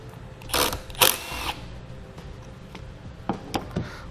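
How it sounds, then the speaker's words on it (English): A 12 mm socket wrench loosens the nut on the positive battery terminal of a 2018 Jeep Wrangler, with a few short ratcheting clicks in quick bursts, fairly close and moderately loud, and no talking. "take off the nut here with a 12 millimeter socket"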